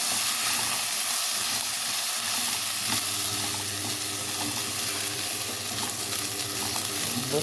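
Rice frying with onions in a pan for sayadieh rice, a loud continuous sizzle and hiss with scraping stirs audible throughout.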